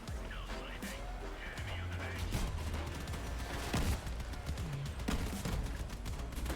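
Heavy video game gunfire crackles in dense, continuous bursts with sharp impacts and crashes. A voice talks occasionally beneath the shooting.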